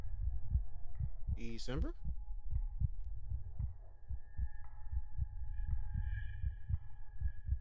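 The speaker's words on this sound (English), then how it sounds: "Why do I hear a heartbeat?" A steady, thumping heartbeat plays in the video game Lair of Torment, regular low pulses continuing throughout over a faint hum, with a brief spoken word near the start.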